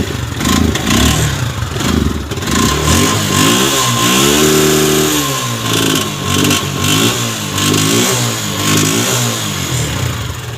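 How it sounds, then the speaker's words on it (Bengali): A motorcycle engine is started and revved on a morning ride, with repeated rising and falling revs over a clattering idle, loud and close, with no speech. "তো আপাতত এখন গাড়িতে স্টার্ট দেবো।"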